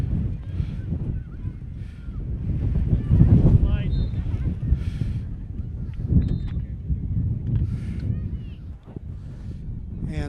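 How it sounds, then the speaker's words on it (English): Strong wind buffets the microphone at an outdoor high school lacrosse game, a steady low rumble with gusts swelling and easing under a commentator's ongoing play-by-play talk. "These winds are pretty strong right now."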